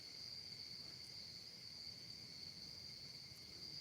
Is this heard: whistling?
no